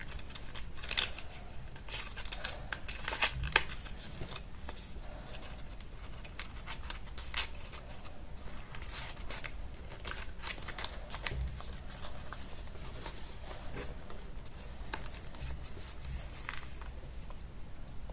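Paper being folded by hand for a small origami coin purse bag: soft crinkles, creases and rustles come close and quiet in irregular bursts, with no talking.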